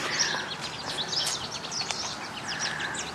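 Small birds sing outdoors near a waterside spot with boats in the USA, with repeated bright chirps and short tweets scattered through steady background noise, moderately close and fairly clear.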